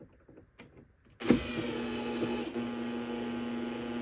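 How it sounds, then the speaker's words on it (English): An electric screwdriver with a ratcheting clutch whirs into action after a few quiet clicks, tightening screws on a 1970 Fender Musicmaster guitar with a steady motorized buzz that shifts pitch midway, close and alone. "has a ratcheting feature, clutch system, so I can choose the appropriate amount of torque to apply"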